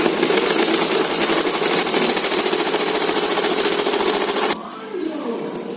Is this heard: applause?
no